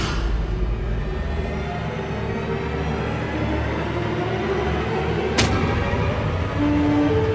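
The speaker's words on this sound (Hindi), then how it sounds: "ये विस्फोट" An explosion effect in a Hindi mythological TV drama rumbles as a dense, loud wash of noise, with one sharp crack-like burst near the end and no talk.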